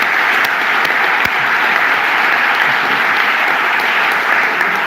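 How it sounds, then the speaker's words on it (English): A loud, sustained round of applause from a large audience at the NetHope Global Summit 2018 in Dublin, Ireland, an even wash of clapping with no pauses. "I want to ask folks just to join me in a round of applause for all of the work that Frank has done with the organization"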